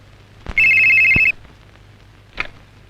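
A single short burst of an electronic phone ring, bright and steady for under a second, followed by a couple of faint clicks in a quiet room.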